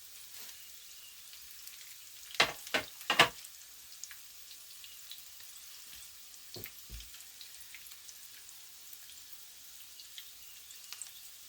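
Salmon croquettes fry in a skillet over medium-high heat with a faint, steady sizzle, broken by a few sharp pops and crackles clustered early and again midway.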